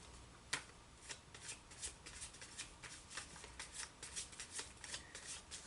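Tarot cards being shuffled close up, a quiet run of riffling flicks in an uneven rhythm, one sharper snap near the start, with no talking.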